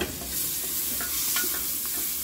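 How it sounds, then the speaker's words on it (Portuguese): Bacon frying in a pan on a home stove, a steady loud sizzle and crackle with soft stirring scrapes, heard alone with no talking. "o bacon já tá fritando."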